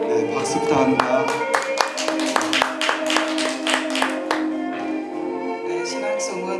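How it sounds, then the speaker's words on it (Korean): An audience at a poetry recital concert claps, a run of sharp hand claps that thins out over several seconds over sustained background music and a voice. "박수 부탁합니다"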